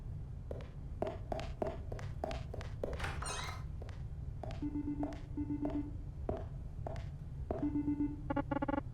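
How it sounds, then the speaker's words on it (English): A telephone rings in the video game Neon Struct, sounding in short repeated electronic bursts among sharp thunks and clicks, with bright tonal rings recurring near the end. "The phone is ringing. Are you going to get that?"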